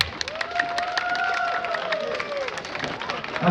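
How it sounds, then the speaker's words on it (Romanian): An audience applauds the Ministerul ensemble with steady, close clapping and crowd noise. A sustained tonal voice or instrument rises and falls over the clapping throughout. "Aplauze pentru ansamblul Ministerul."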